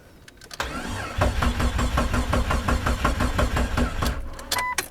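Jeep Cherokee engine cranking over repeatedly on a new jump pack, a steady rhythmic starter churn lasting several seconds, loud and close with no voices.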